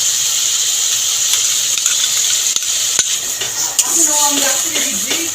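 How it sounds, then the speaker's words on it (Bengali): Masala of white and black mustard, radhuni, soft coconut and green chilli fries in a pan for malai katla, a loud, steady hiss close by, with occasional spoon scrapes and clicks as it is stirred. "মশলাটাকে ভালো করে কষিয়ে নেব"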